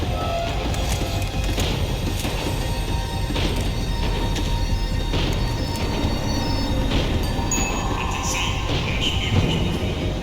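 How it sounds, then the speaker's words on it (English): A tram in the video game Max Payne 3 rumbles as it slows, with steady low rolling noise, metallic clanks and faint squeals over several seconds. "The tram was slowing down, and I'd only just gotten on board."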